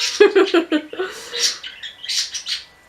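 Bright chirps and tweets from small birds flutter in bursts, fairly close, mixed with a few lower squawky calls.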